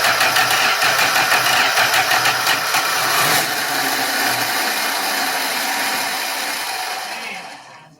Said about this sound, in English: Sounds like a Chrysler.